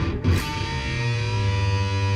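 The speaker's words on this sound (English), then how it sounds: "those little rattly sounds that sound when I'm bending up" An electric guitar note is bent upward, with brief rattly transient tones at the start before a sustained, steady string tone holds alone at close range.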